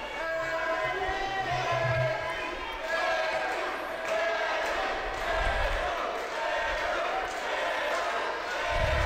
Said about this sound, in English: you can hear the crowd there